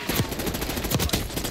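Gunfire in the Call of Duty Warzone video game, a steady stream of fast automatic shots at moderate loudness, evenly rattling throughout with a few sharper cracks standing out.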